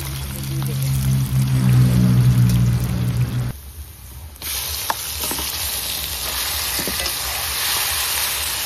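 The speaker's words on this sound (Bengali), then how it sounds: "ভাজা ভাজা হবে, মাংসটা দিয়ে দেবো" Chicken sizzling in hot oil with whole spices for chicken kosha, a loud, close crackle with a brief quieter dip midway before the frying picks up again and continues steadily.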